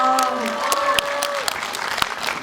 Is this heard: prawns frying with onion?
no